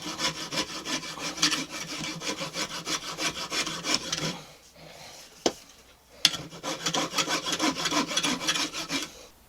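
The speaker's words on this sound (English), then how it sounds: "So I'm going to shape the handle now. I'm going to taper it back because this end's fatter than this end." A scrap-steel Bowie knife handle being shaped and tapered by hand, with steady back-and-forth rasping strokes, close and continuous, then a short pause with two sharp clicks before the rhythmic filing resumes.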